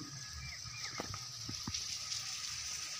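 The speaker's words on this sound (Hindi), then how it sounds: "सामने वो झरना चल रहा है" Waterfall flowing near an old temple water tank at the Neelkanteshwar Mahadev temple in Mandu, a steady broad rushing wash of water that continues throughout, with a few brief faint knocks and background sounds over it.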